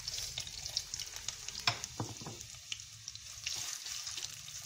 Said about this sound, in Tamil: நான் இந்த மாதிரி ஸ்லைஸாக வெட்டி வச்சுருக்கிற உருளைக்கிழங்கு இதில் சேர்த்துறேன்.